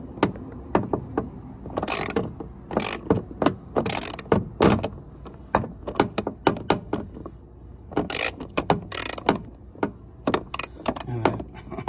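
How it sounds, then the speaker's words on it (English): Ratchet fitted with several extensions turning a fastener on a 2022 GMC Sierra license plate housing, with rapid clicking runs, metallic rattles and jangles in uneven bursts, close up, no talking. "Actually gonna put it on a ratchet since I have so many extensions."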